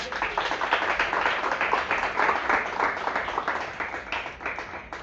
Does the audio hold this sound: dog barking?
no